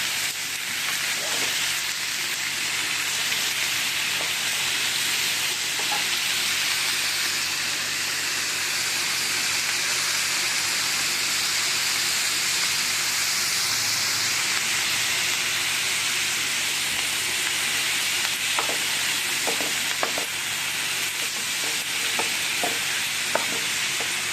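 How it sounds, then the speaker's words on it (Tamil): Masala for a chicken seekh kebab gravy frying in a pan gives a loud, steady, close sizzle that hisses on without a break, with a few faint stirring scrapes near the end and no one talking. "இந்த மசாலா நல்லா வறுத்து எடுத்தால் அந்த கிரேவி நல்லா டேஸ்ட்டாக இருக்கும்"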